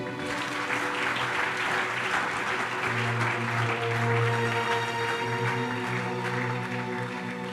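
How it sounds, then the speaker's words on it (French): A church congregation cheers and applauds loudly, dense sustained clapping with shouts and a few tonal voices running through, strong and continuous throughout. "On acclame très fort."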